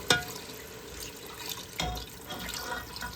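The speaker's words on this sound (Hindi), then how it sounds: "अभी हम इसमें पानी डालने लगे हैं," Water poured into a pot of browned, fried meat for Lahori harissa, a splashing pour with a sharp start and a second gush, close and moderately loud.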